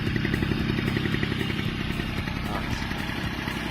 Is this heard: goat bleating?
no